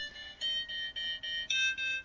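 A phone ringtone chimes in a repeating pattern of bright electronic tones, several short pulses in quick succession, played alone at moderate volume with no talking over it.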